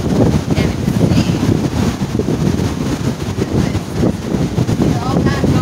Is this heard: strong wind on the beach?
yes